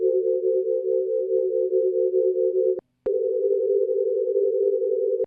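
An ASM Hydrasynth synthesizer plays two held notes with eight random unison voices, each a steady buzzing tone, the second starting after a brief gap and ending with a click.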